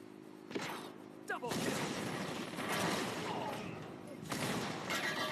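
An enemy repeatedly firing a gun in the shooter Blitz Brigade, heard as bursts of rapid shots in several waves over game noise and clicks, with loud blasts near the start.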